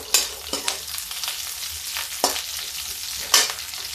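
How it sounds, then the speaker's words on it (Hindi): Sliced onions sizzling in hot oil in a pan while making a brinjal dish, a constant close frying hiss broken by sharp scraping stir strokes and spattering bursts, with no talk. "देखिए प्याज डालते हैं"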